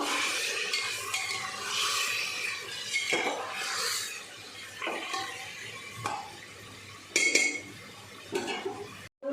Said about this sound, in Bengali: চিকেনটা যে ম্যারিনেট করে রেখেছিলাম এবার এর মধ্যে দিয়ে দেবো। মাংসটা এর মধ্যেই কষিয়ে নেব।